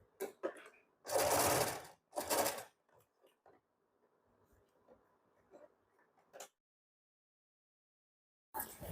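A sewing machine stitches blazer fabric during an alteration, bursts of fast loud whirring separated by softer ticking and clicking mechanism sounds, then silence before another short run starts.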